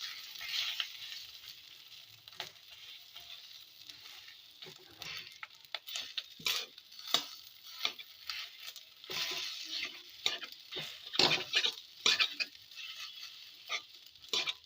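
Bottle gourd peel coated with egg and rice flour frying in a pan over a medium flame and being flipped, with a steady crackling sizzle broken by repeated scraping spatula strokes and clinks, close by with no talking.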